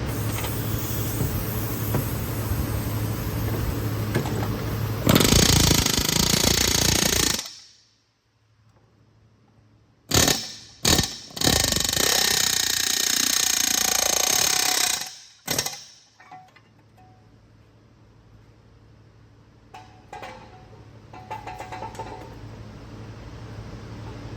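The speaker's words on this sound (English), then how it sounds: "I'm gonna press that out with the air hammer that I have on the ground." Loud pneumatic hammering as an air hammer presses out a car suspension part, in long bursts with abrupt stops, then a few short blasts, followed by quieter clinking and ambient noise.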